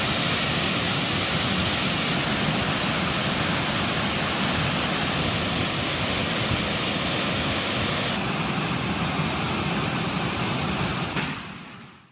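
A waterfall in Tamil Nadu pours with a steady, loud broadband roar that holds evenly for about eleven seconds before cutting away, with no voices over it.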